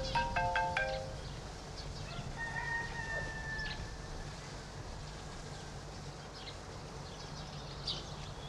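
Electronic phone ringtone chiming in a short repeating burst of tones near the start, then a sustained melodic tone, in a quiet room with a rooster crowing faintly outdoors.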